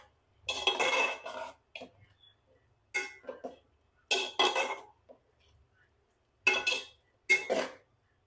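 Chicken mixed with biryani garam masala in a metal pot, heard as bursts of scraping and clinking of a spoon against the pot, coming in separated strokes with quiet gaps, close by.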